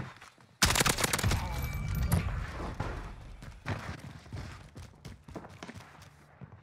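Incoming gunfire in the video game Call of Duty Warzone bursts in suddenly and loud: a dense volley of close shots that thins into scattered, quieter cracks and thuds.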